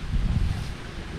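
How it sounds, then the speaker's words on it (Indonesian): Gentle afternoon breeze over farmland in the countryside of Kuningan, West Java, blowing steadily across the microphone as a soft, low rumbling rush with no voices. "Ini sore hari, suasananya angin sepoi-sepoi."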